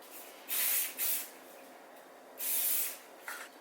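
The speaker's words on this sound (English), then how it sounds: "I spray it." Kevin Murphy dry conditioner spray is misted onto hair in three short hissing bursts, two quick ones close together and a longer one later, close and fairly soft, with no talking.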